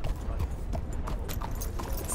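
Horse hooves clip-clop in Red Dead Redemption 2, a steady close walking rhythm of hoof strikes on the ground with no voices.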